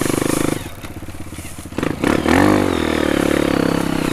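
Dirt bike engine revving and climbing a steep trail, loud and close, with a rising rev near the middle and steady throttle drone after, some clatter and scraping from the ride.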